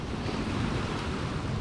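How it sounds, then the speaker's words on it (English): Incoming tide waves washing onto shore rocks beside a UK cod fishing mark, a steady close roar of surf with wind noise across the microphone, no voices. "that's the incoming tide."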